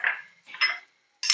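A spoon stirs chole masala made with white kabuli chana in a pot, giving three short, close metallic scrapes and clinks separated by brief pauses, with no talking.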